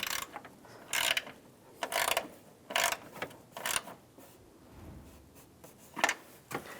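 A ratchet wrench snugs a nut onto a ground-wire stud during heater core work on a 2007-2013 Chevy Silverado, giving a series of short, quiet clicking bursts with pauses between them.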